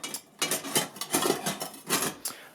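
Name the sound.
metal camping mess kit pot, pan and cups being handled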